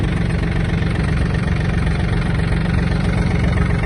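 A Japanese Yanmar F-255 mini tractor's small diesel engine idles steadily close by while warming up, a low rumbling chug with constant vibration and no other sounds.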